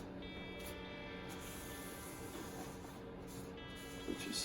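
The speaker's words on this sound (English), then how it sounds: "Just a little bit of brake clean here on this bottom" Brake cleaner sprays in short hissing bursts onto the bottom oil pan surface of a 1973 Toyota Corolla 2T-G DOHC hemi engine during assembly, close and fairly quiet, with a faint steady hum underneath.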